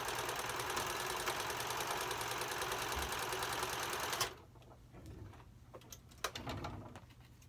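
A heavy-duty sewing machine stitches through plain fabric with a loud, rapid mechanical chatter for about four seconds, then stops abruptly, leaving quieter handling clicks and rustles.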